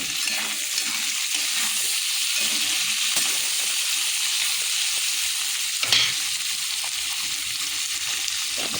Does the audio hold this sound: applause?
no